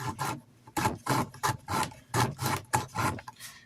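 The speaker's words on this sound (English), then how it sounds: "Just pull it through and just kind of sand it through." A knife handle sanded by pulling a strip through its lanyard hole, with about eight rhythmic back-and-forth rasping strokes, close and fairly loud, with brief pauses between them.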